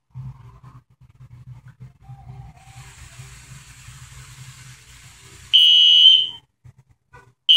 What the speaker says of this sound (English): Set off the fire alarm.